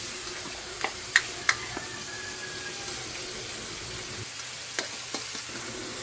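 Bitter gourd frying in a pan while being stirred, a soft steady sizzle broken by a few sharp utensil clicks and scrapes.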